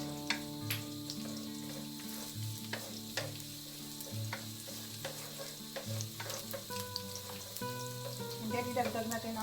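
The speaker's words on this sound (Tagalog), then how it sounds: "And then idagdag at igisa natin yung ating garlic." Garlic sizzling and frying in hot cooking oil in a preheated pan, with steady crackling, stirring scrapes and occasional clinks close by, a faint voice now and then.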